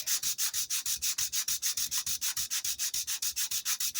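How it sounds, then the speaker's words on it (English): Buffalo horn blank rubbed back and forth on 220 grit sandpaper laid on a flat surface, a close, steady rhythmic scratching of about five strokes per second, with no talk. "utilize this flat surface plus the 220 grit sandpaper and just take a little off of one side"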